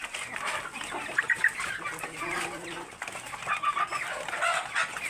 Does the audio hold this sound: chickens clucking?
yes